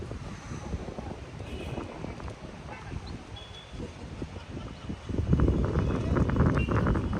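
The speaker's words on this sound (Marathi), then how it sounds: "हवाच हवा आहे इथे" Strong wind buffets the microphone in a continuous low rumble at a parking area in Tamhini Ghat during the monsoon, growing louder and gustier toward the end.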